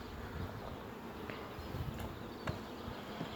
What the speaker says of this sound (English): Some lovely buzzy bees.